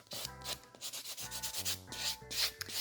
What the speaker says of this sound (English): using a white buffing block or one of your elite buffers